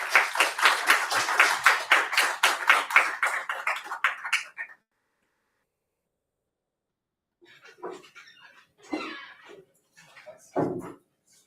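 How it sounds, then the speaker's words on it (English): Audience applause after an academic talk on language models, loud rhythmic clapping from a small group that stops abruptly, followed by silence and then scattered speech. "Let's give it one last applause"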